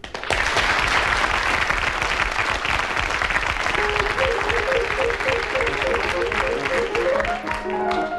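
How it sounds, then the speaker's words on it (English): A studio audience at a radio panel game applauds in a dense, sustained burst of clapping that holds steady throughout, joined by a short musical theme near the end. "A nice round of applause for Clement."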